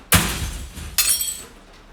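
Glass shattering as a coffin falls to the floor, a sound effect: a sharp crash followed by a second burst of breaking glass about a second later, both loud and close with no talk.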